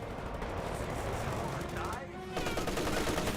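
German MG42 machine gun fire in the World War II strategy game Company of Heroes 2, sustained dense gunfire with a battle din throughout, growing louder in the final second, over faint talk.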